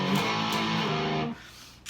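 A heavily distorted electric guitar plays a short transitional riff with loud, thick power chords that ring out and then quickly fade.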